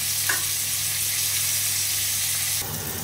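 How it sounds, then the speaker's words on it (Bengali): Prawns frying lightly in hot mustard oil with whole garam masala, a loud, steady sizzle up close that shifts in tone near the end, with no voices. "এবার মাছগুলো হালকা করে একটু ভেজে নেব।"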